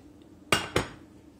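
Two sharp metallic clinks about a quarter second apart as frying pans are handled and nested one inside another, close and clear in a quiet kitchen.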